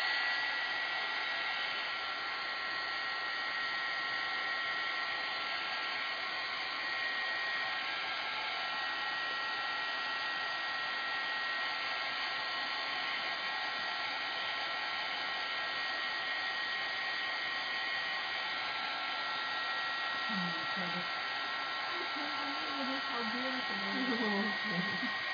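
A hair dryer runs steadily and close, drying scrapbook paper, a continuous even whir that holds for the whole stretch, with a voice briefly audible near the end.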